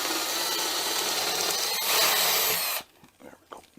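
A power drill drives screws into wood with a loud, continuous whirring grind that rises briefly in pitch, then cuts off, leaving faint handling knocks and rustles.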